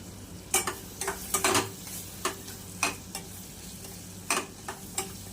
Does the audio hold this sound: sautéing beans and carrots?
yes